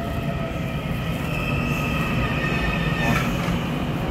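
A ten-car EMU900 commuter train departing Keelung station on the western line, a loud close rumble of wheels and traction motor with a rising whine and brief squeal.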